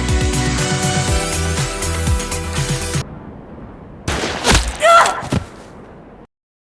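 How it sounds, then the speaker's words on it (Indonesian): Gunfire in a film shootout: a few sharp, loud shots and bangs in the second half, after a stretch of dense, busy sound at the start. "lalu aksi baku tembak pun terjadi"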